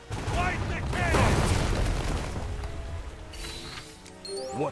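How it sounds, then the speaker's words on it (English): Naval cannon fire in the video game Uncharted Waters Origin, dense crashing blasts with swooping tonal game effects, loud and layered over other game sounds. "Light the cannon!"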